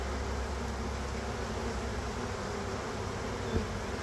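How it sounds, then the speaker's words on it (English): Honey bees swarming inside a bucket fill the air with a constant, even hum of many wings, near and unbroken, with a faint knock late on. "There's the bucket bees"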